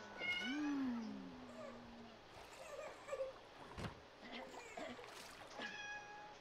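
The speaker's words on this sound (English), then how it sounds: "Also a meow." A cat meows in The Sims 3, a rising and falling call near the start, followed by quieter game sounds and small bursts with faint talk under them.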